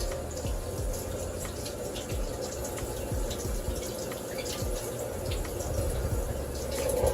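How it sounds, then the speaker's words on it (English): Freshly harvested green onions rinsed under a running tap, a continuous close stream of water pattering and splashing steadily with no voices. "I just harvested some green onions. I'm going to rinse them"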